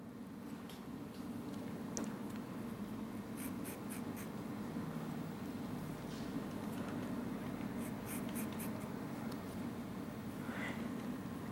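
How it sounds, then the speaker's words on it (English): A straight razor cuts through misted, damp hair during a men's haircut, making soft, steady scraping strokes close to the ear with light intermittent ticks. "misted down well before I begin razor cutting"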